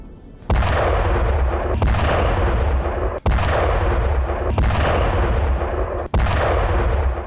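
Heavy blasts from Israeli airstrikes on Gaza, around Jabaliya and Zaytoun, boom loudly about every second and a half over a constant dense roar, with no voices.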